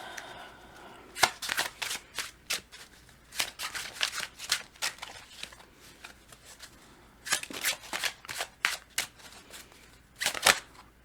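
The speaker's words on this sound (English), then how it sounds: "Too many cards. They fell everywhere." A deck of oracle cards is shuffled in a run of crisp riffling bursts, then a cluster of cards slips and scatters across the floor. The sounds are close and moderately loud, and no one speaks.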